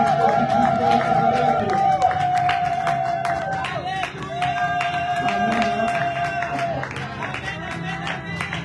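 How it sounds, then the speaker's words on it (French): A church congregation cheers and acclaims during a revival service in Brussels, a dense crowd of shouting voices with scattered clapping and a loud sustained cry rising above it. "toutes ces acclamations, c'est pour les chants."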